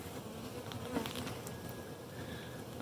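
Bees buzzing steadily around a blooming tree, a soft continuous drone of many insects heard at moderate distance in the open air.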